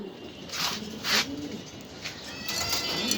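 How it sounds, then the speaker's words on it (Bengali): Pigeons for sale at a pigeon seller's in Mirpur 13 coo softly in a few short bursts against a quiet background hiss, with no one talking. "আরও অনেক কবুতর আছে এখানে"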